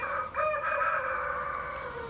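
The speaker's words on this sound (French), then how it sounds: "toute l'ambiance des coqs, des poules et des animaux de la ferme de Périne" Roosters crow steadily on the Périne farm in Martinique, a long sustained call filling the clip, with hens and other farm animals faintly around them.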